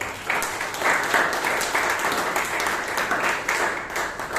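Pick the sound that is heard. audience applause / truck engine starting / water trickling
audience applause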